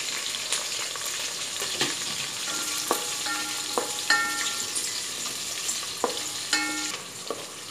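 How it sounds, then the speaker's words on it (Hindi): Onions fry in a pan for sambar, a gentle ongoing sizzle punctuated by metallic clinks and scrapes of a stirring utensil against the pan. "अब हम इसके अंदर ये प्याज जो है वो डालेंगे।"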